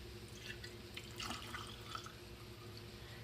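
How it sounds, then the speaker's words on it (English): Everclear grain alcohol poured into a glass mason jar of goldenrod, a soft trickling and dripping liquid sound at moderate level with no talk over it. "So I'm going to add another ½ cup of Everclear."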